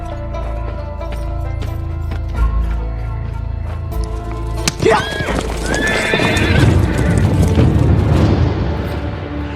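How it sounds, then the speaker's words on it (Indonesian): A horse from the 2016 film The Great Wall neighs loudly and close, amid galloping clip-clop hooves and a dramatic action soundtrack with low booms. "Ballard kabur membawa kuda Tofar dan meninggalkan Tofar sendirian"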